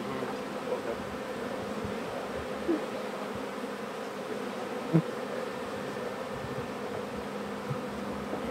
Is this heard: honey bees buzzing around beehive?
yes